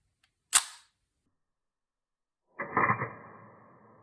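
A Contaflex camera's shutter fires at 1/500 s with the aperture set to f22, giving one sharp, close click followed about two seconds later by a louder mechanical clatter that trails off.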